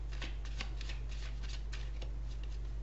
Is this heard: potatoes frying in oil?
no